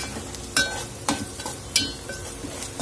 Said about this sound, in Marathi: आपण हे मिरचीचे तुकडे यामध्ये घालून घेणार आहोत आणि छान याला मिक्स करून घ्यायचं आहे